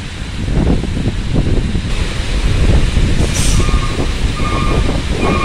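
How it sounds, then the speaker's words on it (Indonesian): A truck carrying motorcycles pulls into a ferry port dock area, heavy engine rumble and rattling with gusty wind noise throughout, steady and fairly loud. "Rombongan kendaraan bawa motor ini ya teman-teman, truk bawa motor ya."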